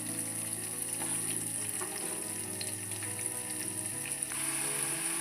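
Onions and chickpeas sizzle steadily in hot oil in a frying pan while a North Karnataka-style fresh chickpea palya is cooked, a dense continuous crackle with faint stirring and no talk.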